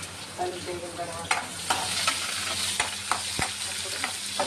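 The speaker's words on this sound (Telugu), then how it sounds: "ఇదండి కోసుకున్న పెద్ద ఉల్లిపాయ అండి, కలిపండి, కలిపి వేయాలండి." Chopped large onion stirred and frying in a pan for a cucumber, drumstick and tomato curry, a continuous close sizzle with irregular spoon clicks and scraping strokes, no voices.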